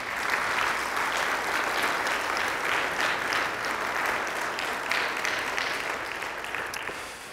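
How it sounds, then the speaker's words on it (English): A congregation claps steadily for Kim after she shares a thanksgiving testimony at a church service, a dense, sustained wash of applause that fades slightly near the end. "Let's give her a round of applause"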